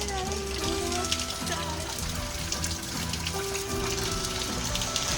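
Rain falls at the beach in Arambol, Goa, a constant dense hiss of drops on surfaces, with voices mixed faintly into the steady wash.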